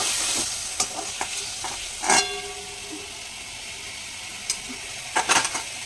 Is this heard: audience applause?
no